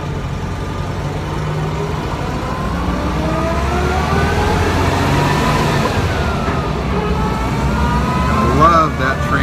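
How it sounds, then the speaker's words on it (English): A 1950 VW Beetle with a split-case crash-box transmission pulls away, engine drone rising as a thin gear whine climbs in pitch, loud and close, with someone talking over it. "it has the split case transmission, a full crash box as they call it, and you'll hear it as they take off. It gives quite a nice little whine."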